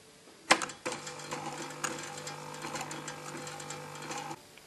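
A sewing machine topstitches along the edge of a fabric throw, starting after a couple of clicks and running in a steady, close mechanical whir for several seconds before stopping.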